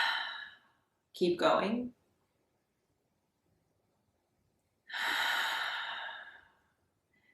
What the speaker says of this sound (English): Deep breath in. Deep breath out.